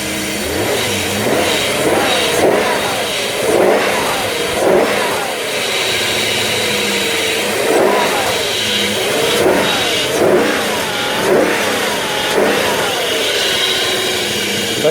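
A BMW 535i engine revving repeatedly nearby with its plastic engine covers removed, rising and falling in a series of quick throttle blips over a steady idle.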